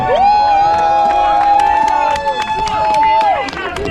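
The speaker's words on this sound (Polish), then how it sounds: "Wielkie brawa!" A crowd cheers and claps for the third-place team at a Kashubian triathlon contest of snuff taking and timed vodka and beer drinking, with a sustained whistle or horn-like tone over loud, continuous cheering.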